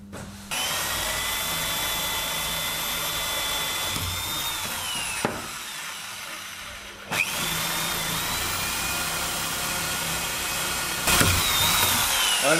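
A power drill with a blunt bit grinds steadily through material while building a vacuum suction table, running continuously with brief interruptions and restarts, close and fairly loud.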